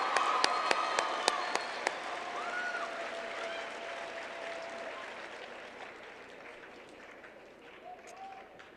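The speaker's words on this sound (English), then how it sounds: "I think we should give all 5 boys a round of applause for their well-spoken answers" Audience applause for the Mr. Parkland 2010 contestants, a few sharp distinct claps at the start giving way to a softer, thinning round of clapping from a crowd in a large hall, with faint voices underneath.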